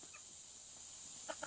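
Native chickens being fed, giving a few faint, brief clucks over a steady hiss, with one small burst of clucking near the end.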